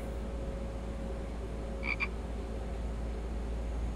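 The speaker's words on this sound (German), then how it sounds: "Dieser Frosch, ne? Ich bräuchte den Frosch schon dringend" A frog in The Infected gives a quick double croak partway through, set against a constant low background hum.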